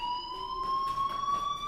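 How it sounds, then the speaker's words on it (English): An electronic fire alarm from Life is Strange Remastered sounds as a steady high-pitched tonal beep, moderately loud and continuous, with soft background noise bursts behind it. "Hey, do you hear that fire alarm?"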